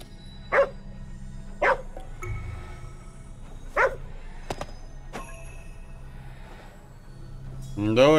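Dog barking in the video game GhostWire: Tokyo: three sharp, separate barks in the first four seconds over a quiet low ambient hum, followed by a few clicks and a short whimpering sound near the end.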